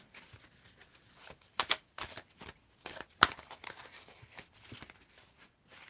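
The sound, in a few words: shuffling oracle cards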